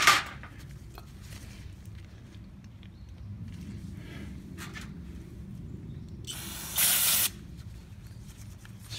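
Cleaner sprays into the carburetor of a Troy-Bilt TB110 mower in a brief hiss at the start and a sharper half-second burst later, over a low, steady background rumble.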